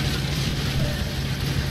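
A tractor engine drones steadily with its PTO engaged in Farming Simulator 19, a loud, even low hum with no pause, heard while an old-time wheat harvest is pulled by a pull-type harvester.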